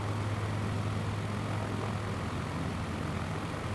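A propeller airplane's engine drones steadily and loudly as it comes in to land in a bush-flying game over Nevada, with no talking over it.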